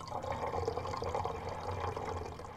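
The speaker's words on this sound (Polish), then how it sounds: "Gdy mamy połączony barwnik z wodą, przelewamy tę wodę do naszej butelki." Water mixed with dye pours into a bottle through a funnel, a steady continuous liquid gurgle and splash that is close and moderately loud, with no talking.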